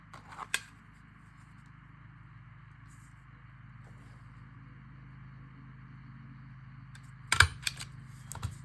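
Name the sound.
stapling a candy box micro notebook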